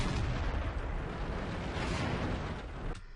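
Tank shells striking and ricocheting off a T32 tank turret in World of Tanks, a dense continuous roar of booming impacts and rumbling battle noise, loud and close, with a sharp burst near the end before it cuts off.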